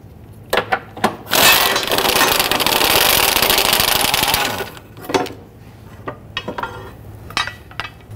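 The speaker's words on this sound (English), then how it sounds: "Using a 16 millimeter socket, we're going to loosen and remove the 4 bolts for this bracket." A 16 mm socket loosens bracket bolts under a 2011–2021 Jeep Grand Cherokee 3.6L V6. A powered whir runs steadily for about three seconds, with scattered metallic clinks of tool handling before and after.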